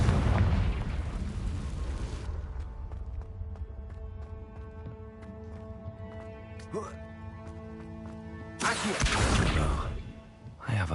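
Fire spell blasts from the Hogwarts Legacy video game: a loud, roaring burst opens the moment, then game music plays, before a second powerful whooshing blast near the end.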